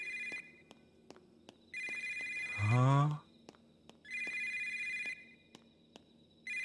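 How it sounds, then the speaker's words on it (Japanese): A digital electronic telephone ringtone in the horror game Yomawari 3 rings in repeated bursts with short gaps, joined midway by a brief low sigh-like voice and a falling warbly game effect. "電話鳴ってるのね。 でもデジタル系の音だね。"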